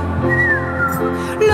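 A melodic whistled line glides up and down over a steady musical backing, prominent and sustained for a moment.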